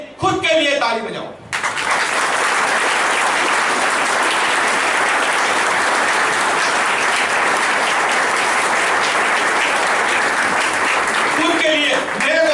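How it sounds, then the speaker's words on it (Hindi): An audience claps for a speaker at a public talk in Godhra, a dense, loud, sustained round of applause lasting about ten seconds, with brief bits of talk just before it starts and as it fades. "तालियां बजानी है तो लोगों के लिए नहीं, खुद के लिए ताली बजाओ।"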